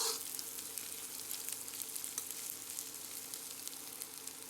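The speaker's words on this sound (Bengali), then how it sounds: "একই তেলে দিয়ে দেব পেঁয়াজ কুচি আর 3টি ফালি করে রাখা কাঁচামরিচ" Chopped onion and three slit green chilies fry in hot oil for a Bangladeshi fish curry. A steady, close sizzle crackles continuously throughout, with no one talking.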